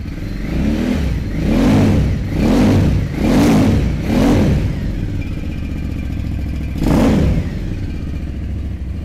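An Aprilia Caponord Rally adventure touring motorcycle idles close by and is blipped four times in quick succession, then once more after a pause, each rev rising and falling sharply over a steady idle.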